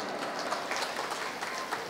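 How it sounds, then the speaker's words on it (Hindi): Applause from an audience at the Solung Festival celebration in Itanagar, a faint, steady patter of many hands clapping with no voices heard. "आपके लिए तालियां बजाता हूं।"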